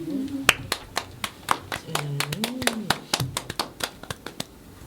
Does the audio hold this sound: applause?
yes